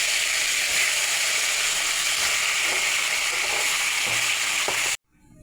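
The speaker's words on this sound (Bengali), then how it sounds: "নেড়ে চেড়ে লাল লাল করে ভেজে নিচ্ছি।" Fish heads coated in salt and turmeric sizzle loudly in hot oil in a pan while being stirred, a dense continuous crackle that cuts off abruptly near the end.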